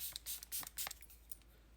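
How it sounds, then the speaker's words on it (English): Several quick short hisses of Charlotte Tilbury matte setting spray being misted onto the face during a makeup routine for mature skin, close and fairly soft, with faint handling noises between bursts. "And then I immediately spray on my matte Charlotte Tilbury spray"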